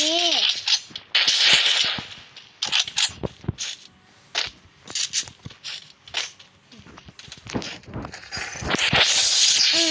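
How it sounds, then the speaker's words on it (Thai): Gunshots from a charge-type gun in the video game Free Fire, rapid sharp cracks in bursts among other game sounds, with someone talking over them. "ปืนตัวนี้ ยิงไป ให้ผมหาย"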